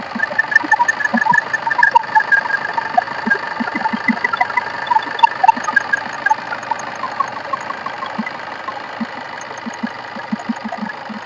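A 2012 Tata Indigo Manza engine idles steadily with a low, rhythmic mechanical chugging and a faint ticking on top, close by and continuous, with no talking.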